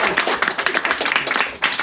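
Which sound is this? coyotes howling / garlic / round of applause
round of applause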